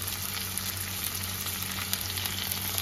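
Onion, chopped tomato, slit green chillies and ginger-garlic paste fry in a pan with a steady, dense sizzle that holds evenly throughout, with no voices.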